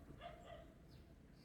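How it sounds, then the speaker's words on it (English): A dog barks a couple of quick times in the background of a quiet home crochet session, the yips faint and muffled at a distance with a low room hum underneath. "So sorry about the barking."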